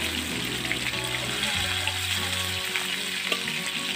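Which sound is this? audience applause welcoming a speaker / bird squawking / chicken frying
chicken frying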